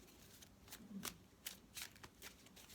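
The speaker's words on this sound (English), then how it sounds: "So I'm just shuffling through from the last reading." A deck of tarot cards being shuffled by hand close up, with quiet rhythmic riffling bursts repeating about every half second over a soft background.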